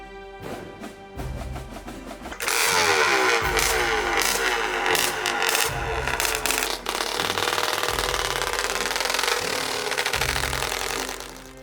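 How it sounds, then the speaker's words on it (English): A 1968 Husqvarna Viking 360cc motorcycle once raced by a world champion runs quietly at first, then turns loud and rough, with repeated revving swells up close. "today I'm riding a 1968 Husqvarna that was raced by world champion Bengt Aberg"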